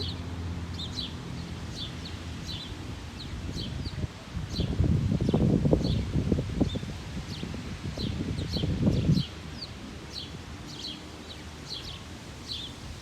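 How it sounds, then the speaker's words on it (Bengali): Strong gusting wind sweeps through green tree leaves in hot Bangladesh weather, a loud rustling surge swelling in the middle and easing off, with small birds chirping steadily throughout. "প্রচণ্ড বাতাস হচ্ছে"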